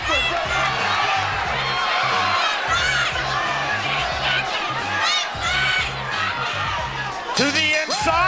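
A sold-out crowd at a boxing event in Tampa, Florida roars and cheers loudly and continuously, with a commentator's voice running over the noise.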